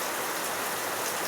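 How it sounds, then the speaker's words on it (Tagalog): Heavy rain pours down steadily in a broadband hiss, close and constant with no breaks, with no voices over it. "Ayan, ang lakas na ulan."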